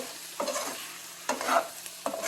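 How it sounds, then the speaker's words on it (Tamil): Cauliflower and peas frying in a pan as a thick mixture, stirred in three distinct scraping strokes over a low steady sizzle, close and moderately loud, no voices. "நல்லா வெந்து வந்துட்டு இப்போ நல்லா கிளறி விட்டு"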